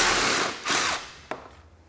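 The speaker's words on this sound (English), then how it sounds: "reach behind here and remove the 10mm bolt" A power tool whirs briefly and spins down as it backs out a 10mm bolt behind the fender of a Can-Am Defender UTV, ending in a short metallic click. The sound is close with no talk.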